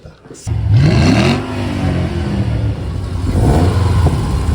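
A car engine on a dyno revs loudly and holds a steady, throaty roar, with the pitch rising and then settling, briefly easing before climbing again.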